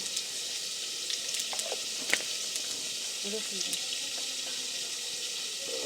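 Cumin seeds sizzling in hot oil while bitter gourd (karela) fries in a home kitchen, a steady bright hiss with a few small pops and crackles close by, no talking over it.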